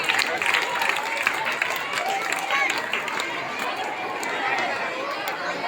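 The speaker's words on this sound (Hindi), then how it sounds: "तालियों के साथ पूरा स्वागत" A crowd at a government school Independence Day celebration claps steadily to welcome guests, with dense applause and chatter throughout at moderate volume.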